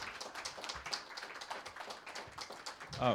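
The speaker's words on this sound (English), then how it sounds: "one more round of applause for Mary Crane and Carolyn Wright" An audience at a poetry open mic claps, a dense patter of many hands in the room, steady and moderate in level without a break.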